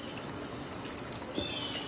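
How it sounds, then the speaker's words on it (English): Steady, high-pitched cricket chirring fills the background in an Omaha yard, a continuous insect drone with no voices. "That quiet hum of crickets. And the chirp of the birds."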